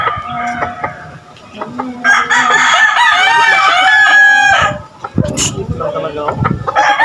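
A rooster crows loudly and close by, with hens clucking before and after, and people talking nearby.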